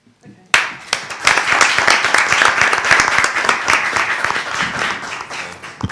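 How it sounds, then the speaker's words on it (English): Sustained audience applause fills a lecture hall at a university human rights centre, welcoming a Nobel Peace Prize laureate; dense, steady clapping starts abruptly and continues loudly throughout without talk. "we thank you and welcome with a big applause"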